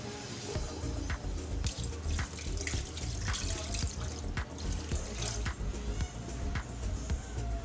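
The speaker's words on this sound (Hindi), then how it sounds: "पानी डालते हैं इसके अंदर।" Water pours steadily into a cooking pot for spicy mutton or beef sajji, a continuous close splashing with small drips and clinks throughout and no talk.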